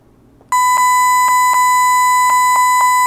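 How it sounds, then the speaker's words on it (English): Two GNU Radio signal sources at different frequencies sound together as a loud, steady electronic tone that starts abruptly, with rhythmic clicking pulses punctuating it, like a harsh beeping alarm. "once I have two signal sources added with different frequency, you should hear some funny noises"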